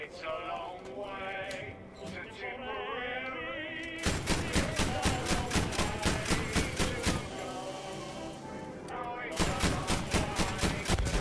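A flak cannon turret in Battlefield V fires a steady run of heavy, evenly spaced booming shots at close range, after a stretch of battle noise with a voice talking. The firing pauses briefly and then resumes.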